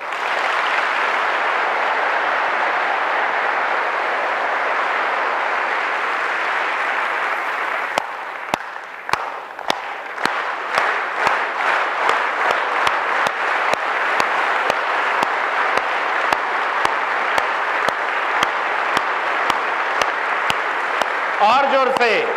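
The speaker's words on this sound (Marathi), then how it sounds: "एकदा जोरदार टाळ्या झाल्या पाहिजेत." Students in a college hall applaud loudly, a steady roar of many hands clapping that goes on for about twenty seconds, with a few sharp individual claps standing out in the later stretch and a voice briefly at the end.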